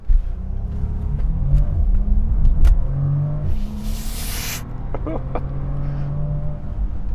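A 2020 Bentley Flying Spur launches hard from a standstill, its engine rising in a deep, loud rumble heard from the back seat, with a brief burst of wind or tire roar midway and faint cabin voices.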